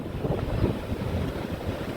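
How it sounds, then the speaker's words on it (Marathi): Rough sea waves roll and wash over Benaulim beach while strong wind buffets the microphone in a constant, uneven roar, with no voices. "समुद्राची लाटां आनी बदललेलें हवामान पळोवन"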